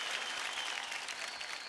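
A television singing-contest studio audience gives a quick, continuous burst of applause after a song, dense clapping heard in a short excerpt.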